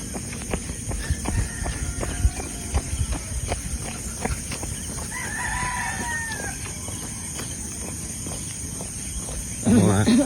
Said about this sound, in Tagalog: Naririnig niyo ang huni ng kuliglig, pati na rin ng tikling.